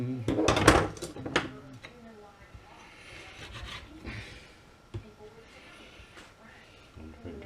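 A knife cuts through raw chicken wing knuckles while spatchcocking a whole chicken, making a few close, rough scraping crunches at first, then quieter rubbing under a speaking voice.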